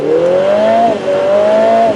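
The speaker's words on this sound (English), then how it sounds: "That's how nice the AMG engine sounds are." Mercedes-AMG engine in track mode revving twice in quick succession, each rev rising in pitch then dropping, loud and close with no talk.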